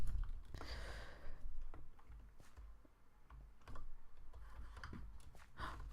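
Quiet clicks of a computer keyboard as a chat command is typed while playing Minecraft, scattered soft keystrokes in irregular bursts over low room hum, no voices.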